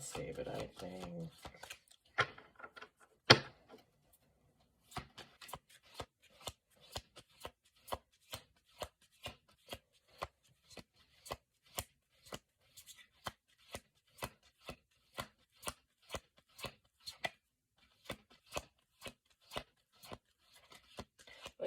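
Cards are shuffled and handled in a long series of sharp, separate clicks and flicks, evenly paced, with a brief murmur of voice at the start.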